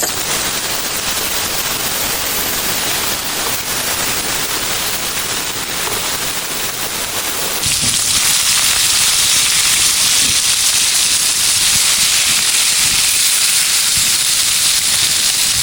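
Pork ribs frying in hot oil give a loud, dense, continuous sizzling hiss that grows brighter and stronger halfway through, with faint crackles underneath.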